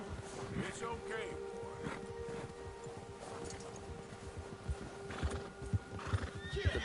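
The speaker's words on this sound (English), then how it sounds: "The bear has spooked my horse." A spooked horse in Red Dead Redemption 2 neighs and whinnies over steady clip-clop of hooves on a trail, with a rider's voice talking across it and a few sharper thuds near the end.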